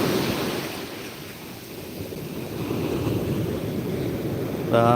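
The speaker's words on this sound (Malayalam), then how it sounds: "തിരമാല വരുന്നുണ്ട്" Sea waves break and wash up on Chaliyam beach during shrimp net fishing, a loud, continuous roar of surf mixed with wind buffeting the microphone, swelling slightly toward the end.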